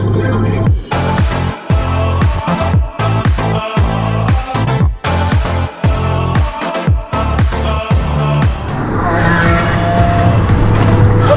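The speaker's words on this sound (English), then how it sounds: "we got that incredibly loud Huracan. Just listen to it!" Very loud Lamborghini Huracan in a supercar convoy, its engine revving hard again and again with sharp gear-change breaks, ending in a sustained roar close by.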